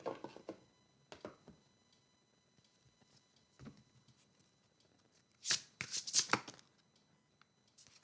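Oracle cards handled and shuffled in a few sparse, soft bursts of rustling and tapping, close by and fairly quiet, with no speech.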